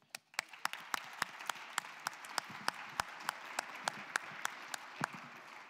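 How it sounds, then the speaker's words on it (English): An audience at a plenary session on integrity and countering undue influence applauds, with sharp, irregular claps standing out over a steady bed of clapping for several seconds, with no talking. "join me, please, in thanking the speakers and a warm applause for you"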